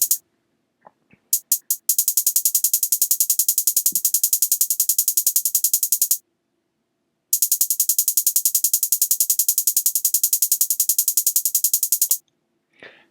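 Hi-hat sample for a trap beat, heard alone with low and mid frequencies cut: a few isolated ticks, then fast even rolls of crisp, bright hits that stop, pause, resume and end with sparse ticks.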